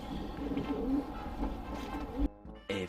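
Racing pigeons in a loft give low, soft cooing that rolls on steadily under a busy background hum, with a brief hush near the end before more sound returns.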